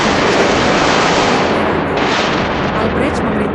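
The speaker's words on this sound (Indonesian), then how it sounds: "Bola meriam meledak di udara, dan suara serpihan kayu memenuhi laut" Cannonballs burst during a naval battle at sea, a loud continuous roar of explosions and crackling blasts that fills the whole stretch, with a brief lull and renewed impacts near the end.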